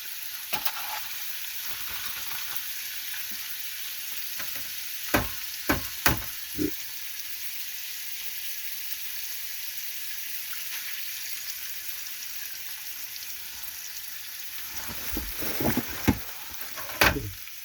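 An egg sizzles and fries in a pan in the cramped kitchen of a truck-camper, a steady broadband hiss running throughout with several sharp clatters and knocks of utensils near the middle and again toward the end.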